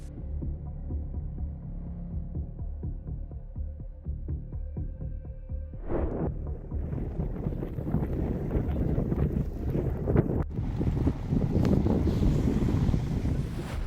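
Strong wind buffets the microphone, a steady roar growing louder and gustier after the first few seconds, with a low throbbing hum underneath.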